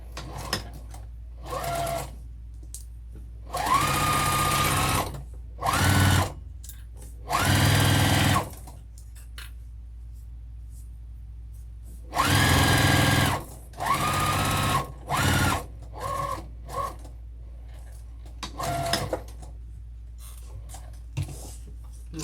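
A sewing machine stitches a zipper onto fabric for a vinyl tote bag in loud, close bursts of rapid whirring, some long and some short, separated by quiet pauses.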